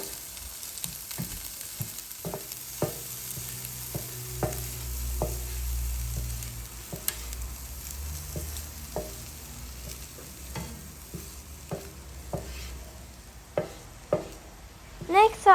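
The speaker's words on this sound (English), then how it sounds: "I'll add in my oil again and a pinch of minced garlic, and I will stir that around" Minced garlic stir-fried in hot oil in a pan, with a steady sizzle under regular clinks and scrapes of a spatula that grow sharper toward the end; no one speaks.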